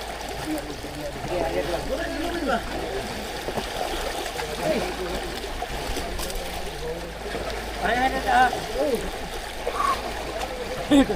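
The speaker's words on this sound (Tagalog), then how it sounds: "Lakas ng agos." A strong current rushes and splashes around a boat at sea in the Pacific, a continuous churning wash heard under people talking.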